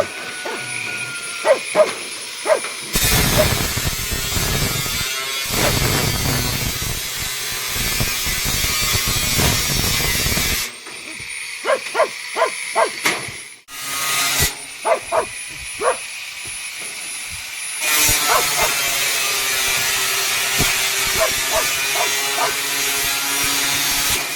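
An angle grinder cuts steel bars for layer house flooring in long, harsh, buzzing bursts of several seconds each. Brief pauses between bursts are filled with knocks and clanks.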